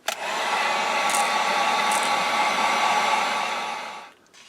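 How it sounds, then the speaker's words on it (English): A heat gun blows loudly and continuously while drying a painted pumpkin seed, a steady roaring whoosh that starts abruptly and cuts off near the end, with no speech. "So we're going to dig out the heat gun and do some drying."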